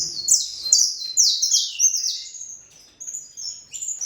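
Bright, rapid saffron finch chirps and warbling phrases repeat continuously for several seconds, close and fairly loud, with no talking.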